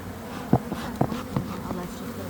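Honeybees in an open hive being split while starting to swarm, with queen cups and brood on the frames, hum in a steady close buzz broken by a few brief knocks.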